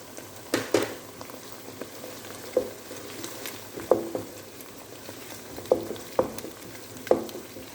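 Onions and garlic frying in a pan at home, a steady soft sizzle broken by sharp clicks and scrapes of stirring roughly every second, fairly close, with no talking.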